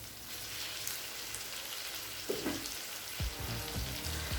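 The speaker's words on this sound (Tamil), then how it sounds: "அடுத்தது நம்ம வதக்கி வச்சுருக்க வெண்டைக்காய் இதில் சேர்த்துக்கலாம்." Okra sautéed with tomatoes in a pan for vendakkai puli kuzhambu gives a soft, steady sizzle, with a few clinks of stirring and the spoon scraping the pan near the end.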